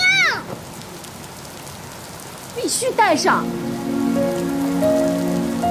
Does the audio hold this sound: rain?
yes